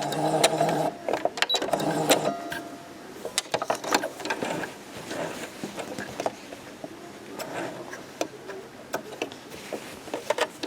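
A sewing machine stitches along the side of a tote bag in short bursts, a rapid rattling hum broken by pauses, close and moderately loud, mixed with scattered ticks and fabric handling.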